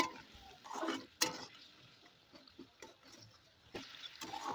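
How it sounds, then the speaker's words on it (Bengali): Spice paste being stirred and fried in oil alongside lightly fried tomato for an okra and potato dish, with scattered scraping and clicking stir strokes, a sharper knock near the start, and a low, quiet sizzle beneath. "এবার ওর মধ্যে ওই মশলাটা দিয়ে দেবো, দিয়ে ভালোভাবে নেড়ে চেড়ে একটু মশলাটা কষিয়ে নেব।"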